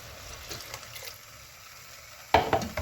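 Coconut milk is stirred into mashed spinach and lentil dal, giving soft, quiet scraping and swishing strokes, then a louder clatter of the spoon against the pot near the end; no talking.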